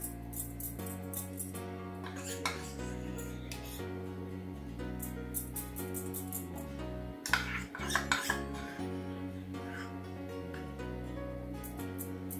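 A spoon stirs milk thickened with condensed milk in a pot for homemade ice cream, giving occasional light clinks and scrapes against the metal beneath steady, prominent background music.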